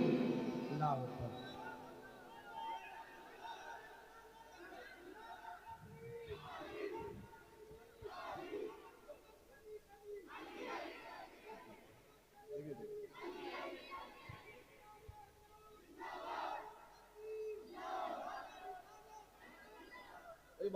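At a Ramadan naat recitation gathering, a crowd answers a takbir call with repeated shouted chants of Allahu Akbar, coming in regular surges that rise and fall, fairly faint, with voices mixed in.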